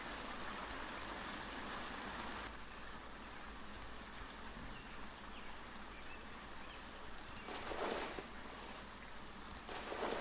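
Steady rain in the survival video game Neo Scavenger, an even hiss of falling drops with a few brief louder bursts, continuous and without speech.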